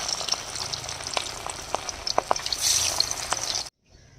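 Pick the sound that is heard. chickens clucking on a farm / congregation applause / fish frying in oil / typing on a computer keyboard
fish frying in oil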